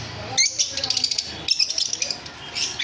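Lovebirds for sale at a bird market chirp and tweet in quick, bright bursts close by, calls overlapping in busy clusters with short gaps between them.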